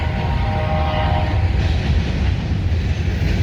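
A CSX mixed freight and a BNSF grain train pass at Fostoria, Ohio: loud continuous rumble and rolling wheel noise, with a held horn tone sounding early over the steady clatter of cars.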